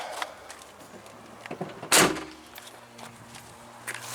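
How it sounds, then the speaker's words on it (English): A house door shuts with a single sharp thud midway, amid quiet background noise and a few faint knocks and footsteps. "close the house up, close that door"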